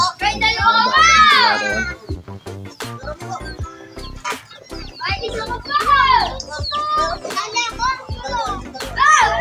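Children playing physical games outdoors, their high voices shouting, squealing and laughing almost continuously, close and loud, with scattered claps or knocks and faint bird chirps in the background.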